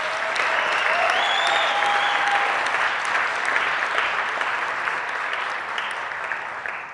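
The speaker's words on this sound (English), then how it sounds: "Please give them a hand of applause." Sustained audience applause at a university learning and teaching awards ceremony, loud, dense and steady throughout with a faint whistle-like tone early on, gradually tapering slightly toward the end.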